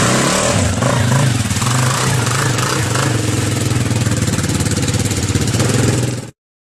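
A quad bike's small engine idles close by with a rapid, throbbing putter, running steadily and loud before stopping abruptly.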